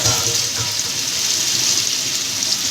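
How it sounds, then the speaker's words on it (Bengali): Water rinsed from a plate of ground spices poured into a cooking pan, a steady close splashing pour lasting the whole moment, no speech. "এই থালাটা ধুয়েও যে মশলাটা লেগে আছে তার জলটা দিয়ে দিলাম।"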